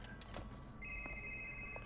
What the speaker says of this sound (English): Get that phone call.